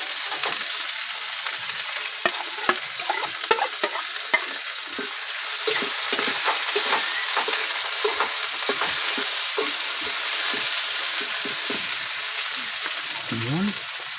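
Garlic fries golden brown in a pan, a steady close sizzle with frequent scraping stirs and clicks of the utensil, and a brief voice near the end.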